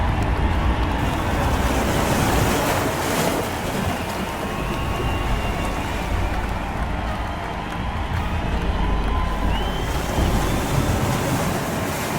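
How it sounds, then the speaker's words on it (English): A ship launch: the hull of the Great Lakes freighter Edmund Fitzgerald sliding into the water and throwing up a massive wave, a steady, loud, broad rush of surging water and wind that persists throughout with no pause. "The ship splashed down into the water with a massive wave, bigger than expected, splashing the crowd"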